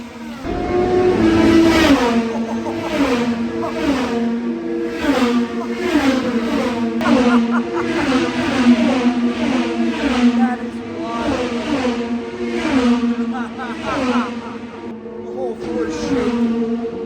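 IndyCar race cars scream past continuously at Road America, a loud, layered engine wail with repeated rising and falling pitch sweeps as cars pass close by in quick succession.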